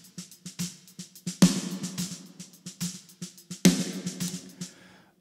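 Dry snare drum groove drenched in heavy reverb, the ghost notes and loud backbeat hits smearing into a long, washy tail that fills the gaps.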